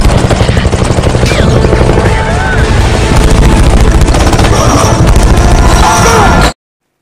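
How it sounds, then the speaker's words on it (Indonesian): Helicopter and gunfire in a film action scene: a loud, dense, continuous roar with rapid sharp bursts layered through it, running steadily for about six and a half seconds before cutting to silence. "Tiba-tiba datang Jacob menggunakan helikopter dan menembaki Caesar"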